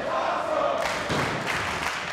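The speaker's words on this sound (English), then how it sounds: "The crowd is on their feet showing their appreciation for these three men." Wrestling crowd on its feet at a Lucha Underground main event, a broad roar of cheering that swells after a moment and holds steady, fairly distant and dense.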